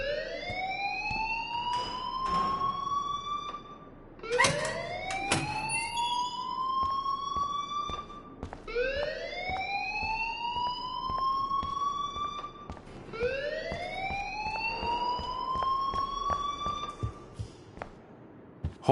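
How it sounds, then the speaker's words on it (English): An alarm in the video game Life Is Strange wails in repeated rising sweeps, four long siren-like cycles with strong harmonics, loud and continuous, with faint clatter underneath. "please turn off that alarm"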